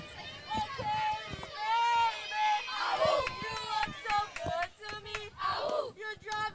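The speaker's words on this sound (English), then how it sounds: "Might be able to hear the Falls bench putting a song together." The Menomonee Falls bench at a sectional-final softball game, singing and chanting a song together with clapping, voices rising and falling in rhythmic bursts from a short distance.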